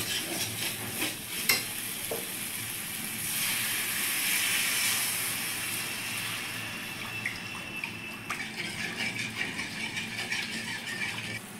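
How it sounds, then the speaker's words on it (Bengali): Rohu fish head curry gravy boiling and bubbling in a pan, a steady close sizzle and bubbling with occasional stirring clatter and scraping, no talking. "ঝোলটা আমার ফুটে গেছে,"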